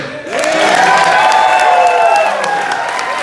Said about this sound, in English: Applause for our officiant, John Erdman.